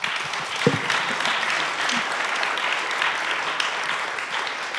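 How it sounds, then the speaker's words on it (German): An audience at a panel discussion on gender equality applauds steadily, a dense, even wash of clapping that holds for several seconds. "Applaus"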